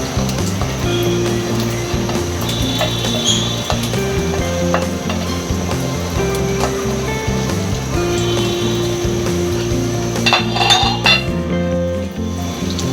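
Vegetable soup with chopped chili and raw capsicum being stirred in a pot, giving steady metallic clinks and scraping of a spoon against the pot over a continuous low sizzle, close and fairly loud throughout.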